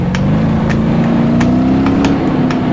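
A muscle car engine drones steadily in the rally video game RallyCat, a loud, slowly rising hum close up, with occasional faint clicks and no talking.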